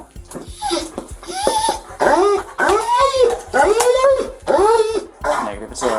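A police canine searching a tight crawl space lets out a series of close, rising whines and yelping barks in uneven bursts, with short pauses between each cry.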